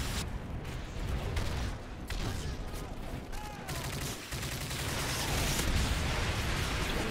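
Dense gunfire in the video game Modern Warfare 3, with rapid automatic bursts and overlapping shots filling the whole stretch at steady, loud volume and a busy battle din behind.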